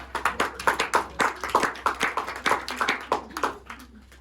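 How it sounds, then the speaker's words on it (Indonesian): A small classroom of students claps for a presenting group in a micro-teaching lesson, loud distinct hand claps in a fairly regular rhythm that loosen and thin out toward the end. "beri tepuk tangan untuk kelompok 1"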